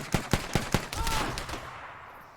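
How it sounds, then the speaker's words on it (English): Shotgun fire in the Arma 3 video game: four sharp blasts in quick succession, followed by a rolling echoing tail that slowly fades. "I just got blown away with a shotgun from my left"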